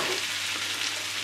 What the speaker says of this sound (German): Dann habe ich jetzt hier meine Butter in die Pfanne gegeben. Die löse ich jetzt auf und gebe mein Semmelmehl dazu